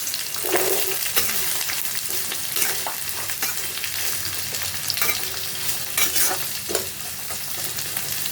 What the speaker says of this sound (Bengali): তেলটা গরম হয়ে গেছে, এর মধ্যে দিলাম শুকনো লঙ্কা, তেজপাতা, দিলাম পেঁয়াজ কুচানো দিলাম